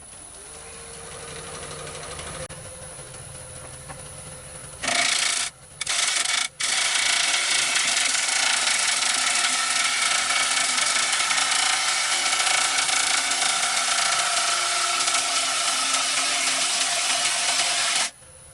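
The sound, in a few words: bowl gouge scraping wood on a lathe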